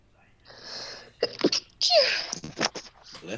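A person sneezes once, sharp and close, during a casual chat before a Dungeons & Dragons session, with a brief exclamation and some background sound around it.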